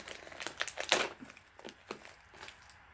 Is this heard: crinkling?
yes